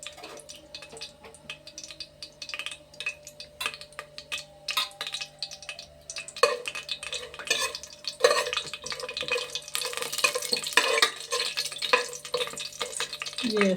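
Whole spices, including star anise and cinnamon sticks, crackle and sizzle in hot oil in a pan while a spoon stirs them, giving close, steady popping and scraping clicks that grow denser and louder toward the end over a faint background hum.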